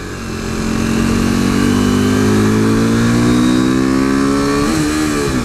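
A modded 2015 KTM RC 390 single-cylinder motorcycle engine drones steadily while being ridden, its pitch climbing gradually under load before a brief dip near the end as a shift is made, loud and close.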